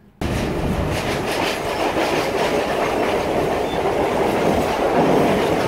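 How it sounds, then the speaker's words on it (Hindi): A train runs on rails, carriages rolling past with a loud, continuous roar and steady clickety-clack of wheels over track joints, close and unbroken with no voices. "तो ये मैंने कुछ ट्रेन के शॉट्स लिए हैं, जस्ट ट्रेन से जा रहा था"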